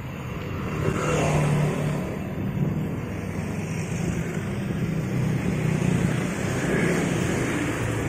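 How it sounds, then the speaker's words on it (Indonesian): Busy road traffic rushes past without a break, many vehicles blending into a broad whooshing roar with some wind buffeting on the microphone. "Lalu lintas di sini nih cukup ramai juga nih, banyak kendaraan yang melintas."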